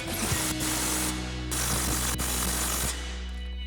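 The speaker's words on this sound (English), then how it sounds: "Now we're going to tighten our 2 main bolts here. So our impact and 24mm socket and a 21mm wrench to hold it." Impact wrench with a 24mm socket driving the main coilover bolts on a 2016-2024 Camaro, loud rapid hammering bursts in several runs with brief pauses, close up.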